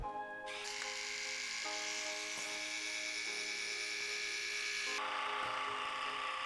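A Shark Glow Pro suction facial device runs with a steady electric motor hum and high buzzing whine, shifting pitch slightly a few times, close and without any talking.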